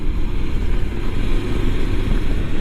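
A Honda Transalp motorcycle pulls away with a few higher revs, its engine a loud, close, steady throaty drone with no judder and no talk.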